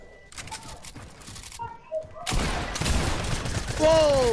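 Rapid bursts of video game gunfire in a squad match, loud and dense in the second half, with players talking over the shooting.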